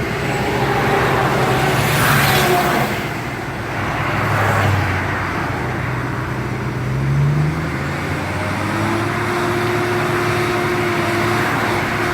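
A tracked excavator's heavy engine drones loudly and steadily, swelling in a few slow surges as it revs while stuck, with a low rumble throughout, at a pipeline construction site.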